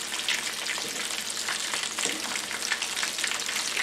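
Cauliflower florets frying in well-heated oil at medium-high heat, a steady close sizzle and bubbling that holds through the whole stretch with no voices.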